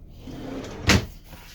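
A large drawer slides open under a booth dinette inside a 2003 Tiffin Phaeton 40TGH motorhome, giving one short, close scraping thump against a quiet room.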